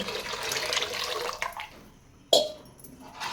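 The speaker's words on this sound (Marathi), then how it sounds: "तर इथे मी पुन्हा तांब्यावर पाणी घातले आहे" Water poured from a copper lota into a cooking pot of tur dal for chakolya gushes steadily and close, fading out, then a sharp splash follows.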